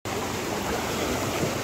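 Water rushing up through a pipe into an upper tank at a village water project, a dense steady close roar of flowing water with no break and no voices.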